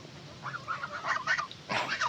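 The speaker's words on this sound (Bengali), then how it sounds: "এই যে মুরগি এই মতো দিয়ে বাইরে আসতেছে সব" A flock of chickens comes out of their shelter when called, giving several short bursts of clucking and squawking at close range over a quiet background.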